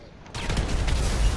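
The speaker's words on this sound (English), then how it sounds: "Victory explosion." In the game GTA 5, a sudden burst of crackling, booming explosions erupts after a brief quiet moment and continues in rapid, gunfire-like bursts.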